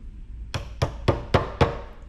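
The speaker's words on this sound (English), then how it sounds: "take this one and then you hammer it" A toy hammer drives screws into a children's toy, giving five sharp, evenly spaced knocks close by with short quiet gaps between them.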